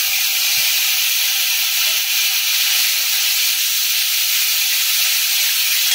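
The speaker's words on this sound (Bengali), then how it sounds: "ফোড়নটা ভাজা হয়ে গেছে, এর মধ্যে গ্রেট করে রাখা টমেটো আর কাঁচা লঙ্কাটা দেবো।" Grated tomato and green chili hit hot fried tempering spices with asafoetida, giving a loud, steady, bright sizzle and hiss that continues evenly throughout.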